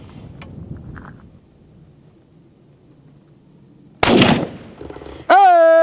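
A budget rifle fires at a 500-yard target: a sharp, loud shot bursts out suddenly after a stretch of quiet background, followed by a short rumble and then a steady ringing tone.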